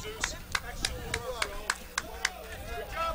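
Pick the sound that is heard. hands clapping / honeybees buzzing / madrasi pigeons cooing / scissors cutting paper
hands clapping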